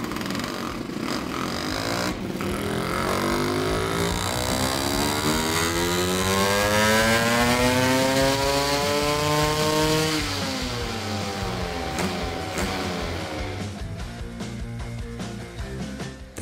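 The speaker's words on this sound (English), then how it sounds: "That now was a complete cold test. We simply stuck the carb on, nothing else." A Vespa or Lambretta scooter engine fitted with a Smart Carb carburetor idles and revs steadily on a cold start, its pitch sweeping up and then back down, loud and close with a buzzy two-stroke rattle.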